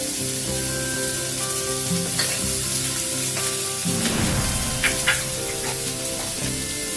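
Cauliflower and carrot fry in a pan with a loud, continuous sizzle, occasionally broken by stirring scrapes, over faint background music.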